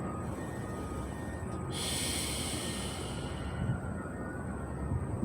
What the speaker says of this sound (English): Deep breaths in and out.